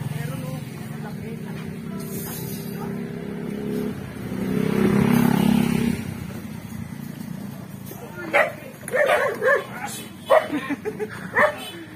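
A dog barks and yips in several sharp bursts near the end, outdoors under balimbing fruit trees, over a steady background rumble. People talk throughout.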